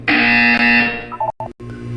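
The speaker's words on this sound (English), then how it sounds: "You will hear a buzzer." Buzzer from the video game Portal 2, a loud, harsh electronic tone held steady for about a second, then cut into short choppy bursts with brief gaps before it resumes.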